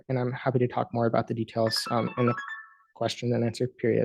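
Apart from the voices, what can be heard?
mobile phone ringtone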